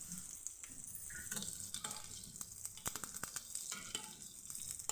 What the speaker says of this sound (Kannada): ಸಾಸಿವೆ ಚಟಪಟ ಅಂದಾಗ ಕರಿಬೇವು ಹಾಕಿದೆ ನಾನೀಗ.